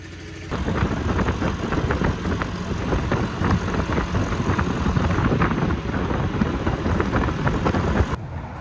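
A Honda Helix scooter engine, brought back from abandonment, runs steadily near the listener with a dense, buzzing mid-range drone and a slight rhythmic pulse, starting up abruptly and then cutting off near the end.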